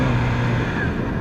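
A Yamaha R6 sport motorcycle with its stock exhaust runs as a steady, loud engine drone close by, holding an even tone without a clear rev swell.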